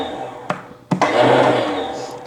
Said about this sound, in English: I can tell it's spinning the starter.